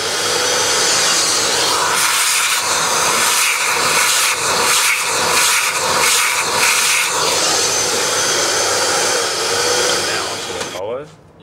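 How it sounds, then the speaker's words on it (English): Vacuum cleaner running steadily while cleaning the collar area of a Quamar M80e coffee grinder, a loud continuous whooshing roar that stays level and cuts off abruptly near the end. "So I'm just going to grab the vacuum."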